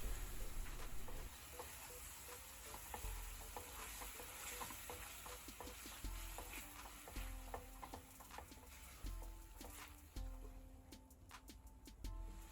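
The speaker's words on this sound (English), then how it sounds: "Now add the watered down tomato paste, stir through well and fry out for around 30 seconds to reduce the bitterness." Watered-down tomato paste stirred and fried in a pan for a restaurant-style chicken tikka achari, with a continuous sizzle under repeated spoon scrapes and taps on the pan, fairly faint throughout.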